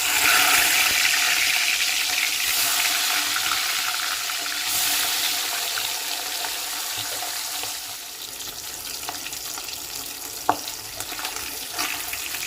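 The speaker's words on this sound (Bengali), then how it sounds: "আমি এখন খুব ভালো করে মাথা আর লেজাটা ভেজে নেব।" Hilsa fish head and tail frying in hot mustard oil in a kadai, a steady broadband sizzle that runs loud and continuous throughout, easing slightly later with a sharp clink near the end.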